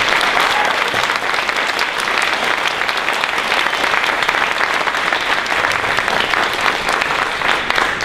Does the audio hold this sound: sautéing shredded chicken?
no